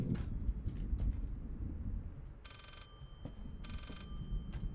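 An old-style telephone ringing in the horror video game Layers of Fear, two short bursts of bell ringing heard faintly within a dim, rumbling ambience.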